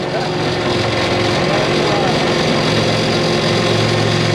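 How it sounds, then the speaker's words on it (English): A concrete line pump runs steadily during priming for a stamped concrete patio, producing a loud, constant engine drone with a mechanical rattle close by. "Turn the pump on and forward, increase the volume ever so slightly"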